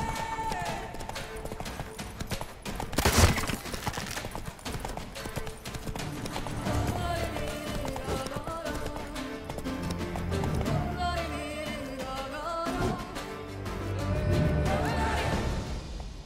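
Roach, Geralt's horse in The Witcher 3, gallops at a quick, steady clip-clop for the whole stretch, the hoofbeats sitting under busy orchestral game music with a sharp thump partway through.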